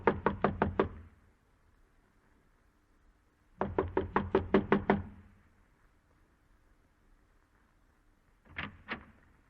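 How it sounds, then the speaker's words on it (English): Knocking on a door in a 1951 radio drama: a fast burst of five knocks, a pause, a longer run of about seven raps, then two final knocks, close and crisp against a quiet background. "I'm going to knock on the door now"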